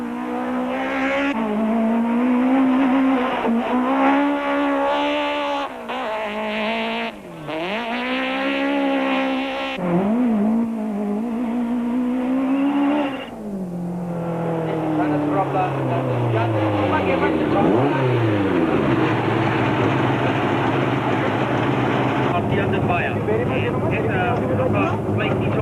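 Volkswagen rally cars from 1992 race a short, tight stage at local showgrounds, engines revving hard and rising and falling in pitch through gear changes, with a commentator talking over them throughout.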